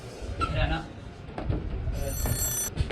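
A mobile phone rings in short bursts under nearby talking, with a bright electronic tone swelling toward the end.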